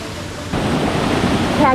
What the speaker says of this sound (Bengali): ওই তো ওয়াটারফলসের আওয়াজ পাওয়া যাচ্ছে